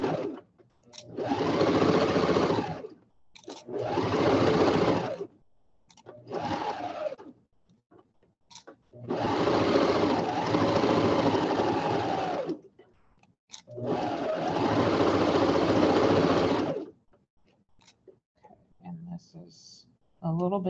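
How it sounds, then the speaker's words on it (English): Sewing machine stitching fabric for a dog cape along a half-inch seam, running in four long steady bursts of a few seconds each, separated by short pauses for turning the corner, close and fairly loud, with no talking. "stitch across the top, leave the needle in, lift the presser foot, turn the corner, and then keep stitching at my half inch."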